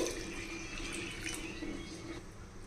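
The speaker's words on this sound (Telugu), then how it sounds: "ఇదిగోండి ఇందులో కొంచెం నీళ్ళు పోయాలండి" Water poured into a bowl holding mutton brain, a short close splashing trickle that fades slightly toward the end.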